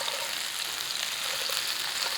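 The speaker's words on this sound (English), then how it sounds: "Get them out into a single layer and start frying them." Steady, crackling sizzle of potatoes frying in a hot pan, a continuous bright hiss with no voices.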